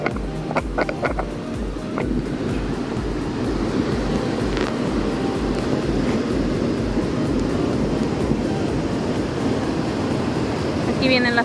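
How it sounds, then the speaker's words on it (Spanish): Ocean surf rushes and breaks continuously up close on a beach in El Salvador, a dense steady roar with no pauses. "Escuchen, escuchen este mar."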